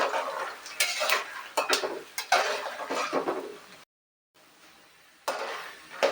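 Peanuts being stirred as they roast brown in a pan for vegetable uppittu, with a spoon scraping and clinking against the metal in irregular strokes and a faint sizzle, close and moderately loud, broken by a brief silence.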